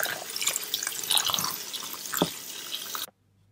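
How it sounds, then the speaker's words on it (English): Running water pours over wild garlic leaves being rinsed, a close splashy trickle with drips and rustling that stops abruptly near the end. "Rinse the wild garlic leaves."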